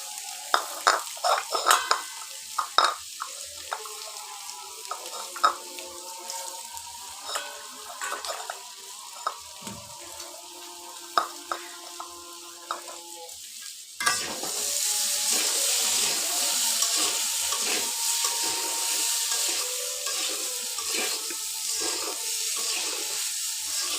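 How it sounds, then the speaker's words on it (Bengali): Rice and potatoes frying in a pan for fish head muri ghonto, scattered clinks and stirring knocks at first, then a sudden steady sizzle that carries on close and even, with no talking. "একেবারে চালগুলোও ভেজে নিচ্ছি"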